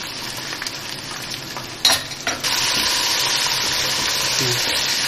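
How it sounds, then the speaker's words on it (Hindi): Whole garam masala with garlic and ginger sizzles in hot oil for chicken pulao biryani, a loud steady frying hiss that swells after a brief clatter and runs on without talk. "अब ये मैं साबुत गरम मसाला डाल दूँ और ये लहसुन अदरक।"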